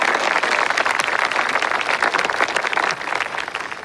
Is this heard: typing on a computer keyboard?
no